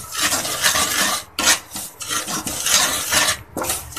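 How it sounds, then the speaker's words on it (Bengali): Homemade beet salt mixed with a teaspoon of cumin powder is stirred hard, a dense gritty rasping and scraping that runs almost continuously at close range with a few brief pauses, with no talk. "দিয়ে দিচ্ছি এখানে 1 চা চামচ জিরা গুঁড়া দিয়ে এটাকে আমি এখন ভালো করে নেড়ে নেব।"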